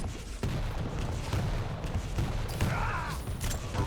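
Rocket launcher fire and explosions in the video game Quake, heavy booming blasts with mechanical clatter and a rising whine, loud and continuous with no talk.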